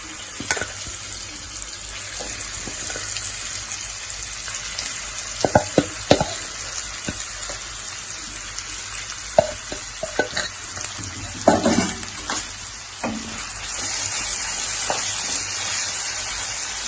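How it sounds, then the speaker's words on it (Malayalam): Prawns deep-frying in oil for chilli prawns, a steady close sizzle and bubbling throughout with occasional clinks and stirs, no talking. "ബാക്കിയുള്ളതും കൂടെ നമുക്ക് വറുത്തെടുക്കാം."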